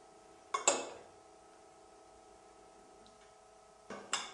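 A metal spoon clinks against a dish while tomato topping is spooned onto pieces of bread, two brief sharp clinks, one near the start and another near the end, over a quiet background.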